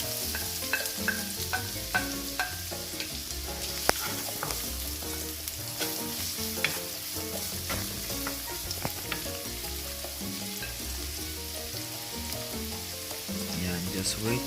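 Onions sizzle and fry in a pan as the start of a Filipino chicken tinola, with a steady crackling hiss and occasional stirring clinks throughout, close and alone.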